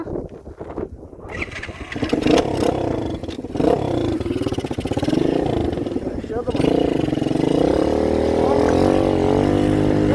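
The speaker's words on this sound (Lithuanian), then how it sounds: "lipam ant savo motorolerio," A moped scooter engine starts up and runs as the rider heads off across wet fields after rain, a close, buzzing drone that rises and falls with throttle, while a person talks over it.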